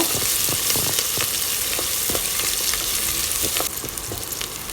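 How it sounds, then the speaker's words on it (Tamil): Onion sizzles in hot oil with curry leaves, chili and garlic for banana stem kootu, a steady frying hiss broken by spoon-stirring scrapes and clicks, close and continuous, quieting slightly near the end. "இதை போட்டுட்டு வெங்காயத்தை நல்லா வதக்கி விட்டுக்கோங்க"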